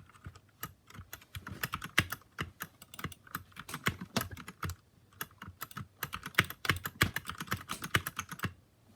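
Steady, fast typing on an RK61 Royal Kludge mechanical keyboard, with dense clacky keystrokes in quick bursts and short pauses. The keys sound close and crisp, and no one talks over them.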